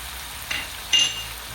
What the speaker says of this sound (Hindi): और इसको भूनते जाएंगे और ताकि चीज़ें भी मिक्स हो जाएं